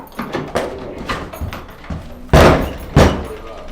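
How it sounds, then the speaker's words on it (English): A house door that won't lock being handled: soft rattles and knocks, then two loud thuds of the door pushed against its frame, close by, with a voice in the background. "This door won't lock."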